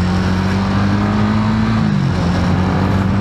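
Honda Winner X motorcycle engine labouring up a very steep road, a loud, continuous close hum that dips in pitch midway as if shifting gear.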